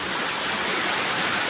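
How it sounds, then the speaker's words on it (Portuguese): Steady rain falling outdoors, a dense, even hiss of drops with no breaks or voices, loud and close throughout. "Eu vou deixar você aqui um minuto e pouco aqui, escutando essa chuva abençoada"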